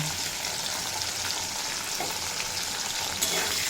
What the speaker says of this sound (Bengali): দিয়ে খুব ভালোভাবে ভেজে নেব উচ্ছে